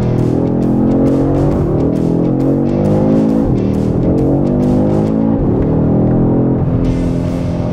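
Porsche Cayman GT4 RS engine on the Poznań race track, loud and continuous, its pitch rising and falling through repeated acceleration pulls and gear changes, with an instructor's voice faintly in the background.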